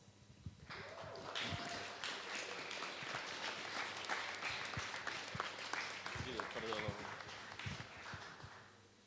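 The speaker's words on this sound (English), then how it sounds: "I would like you to give him a big applause." Audience applause at a Travelling Salesman Challenge award ceremony, a dense burst of clapping that rises quickly and continues for several seconds before fading, with voices mixed in.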